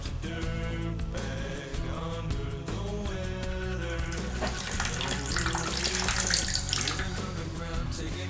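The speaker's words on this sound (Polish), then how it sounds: "trochę wody" Water pours into a mixture with olive oil while grilled chicken breast is being prepared, a steady running splash that brightens near the end, with background music underneath.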